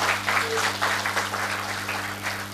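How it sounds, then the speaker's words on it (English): Steady audience applause at a conference session fills the space evenly at moderate level, with a low electrical hum running underneath. "let's applaud for everybody who's contributed to this session"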